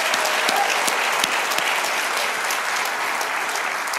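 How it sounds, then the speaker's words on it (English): A church congregation claps for a pastor after a sermon review, a dense, even wash of applause filling the room at steady loudness throughout. "Let's give Pastor Tim a hand clap."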